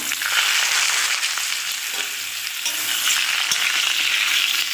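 Cut potatoes and ridge gourd frying in hot mustard oil make a loud, dense, continuous sizzle with faint crackles throughout and no voices.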